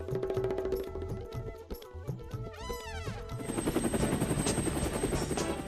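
Cartoon helicopter engine starting up in an animated army scene, a loud, rapid rattling chop that builds over a rising mechanical whine, with a sustained high tone near the end.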